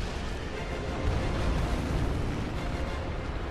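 A massive explosion in the video game Bloodborne roars as a loud, broadband rumble that sustains with heavy low-end churn for several seconds, with no talk over it.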